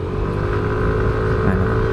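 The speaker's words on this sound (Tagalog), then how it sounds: "ang tunog ng NMAX, ang tunog na signature ni Yamaha" Yamaha NMAX V3 scooter engine running steadily, a low, even hum with a smooth drone, close and fairly loud, no voices over it.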